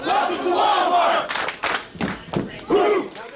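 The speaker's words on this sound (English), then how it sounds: "they begin the day with the Wal-Mart cheer" Wal-Mart store employees shouting their morning cheer together, a loud crowd yelling in short bursts with a few separate voices.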